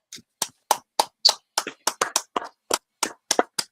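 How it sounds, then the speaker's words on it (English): An audience claps in a quick burst of about a dozen sharp, separate handclaps at a slightly uneven rhythm, close and fairly loud, with no voices over them. "Go ahead and clap it up for Kakum Bar."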